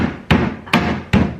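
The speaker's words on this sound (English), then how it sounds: "giving this a good hammer will make sure that that is accomplished" A hammer drives the top onto a wooden DIY shoe box, three loud, close, evenly spaced whacks on wood with short ringing decays between them.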